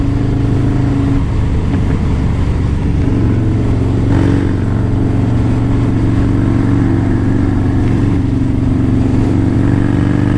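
Harley-Davidson Softail motorcycle pulling hard on the road, a loud continuous engine roar that climbs steadily with heavy wind rush, no talking.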